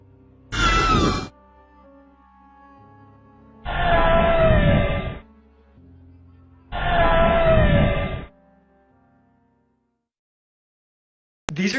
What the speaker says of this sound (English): Perhaps the creepiest part about the footage is the girl's scream while he's running away.